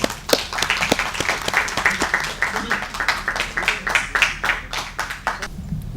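An audience at an Indo-German literary dialogue and mushaira applauds to welcome a senior surgeon to the stage, dense, steady clapping from a crowd that carries on for several seconds.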